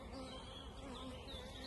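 Honeybees buzzing during an apiary hive inspection, a faint, continuous hum of many insects close by with no clear pauses and no speech.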